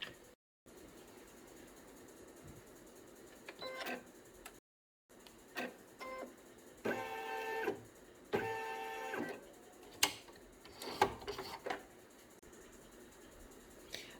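Embroidery machine stitching a pink unicorn plush blanket, quiet rapid mechanical ticking and whirring in short bursts separated by pauses, with motor hum and sharper clicks as the needle runs.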